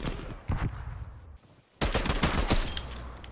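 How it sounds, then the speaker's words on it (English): Tec-9 SMG firing semi-auto in Call of Duty Cold War league play: a few sharp shots, then a pause and a quicker burst of close, loud cracks over match noise. "So this is just a semi-auto SMG"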